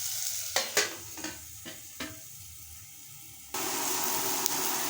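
Omena stew cooking in a sufuria, a soft sizzle with several light clicks and taps of a cooking stick early on, then a louder, steady hiss of bubbling and frying for the last stretch.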